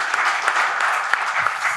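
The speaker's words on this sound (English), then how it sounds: "A big round of applause to Mr." Audience applause for a speaker at a BRICS Friendship Cities Conclave session on AI-enabled urban governance, a steady, dense wash of clapping from a full hall held at an even level for under two seconds.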